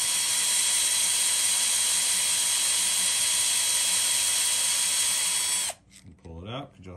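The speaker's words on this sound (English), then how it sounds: "I'm just gonna drill down." A drill bores into metal on a motorized bike hub, a steady high whirring grind lasting several seconds before the drill stops abruptly and a brief voice follows.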